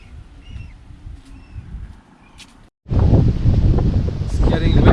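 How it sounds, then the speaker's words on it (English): Faint bird chirps over a soft breeze on high ground in Sri Lanka, then after a brief gap loud gusty wind buffets close by with a heavy low rumble. "It's getting windy up here"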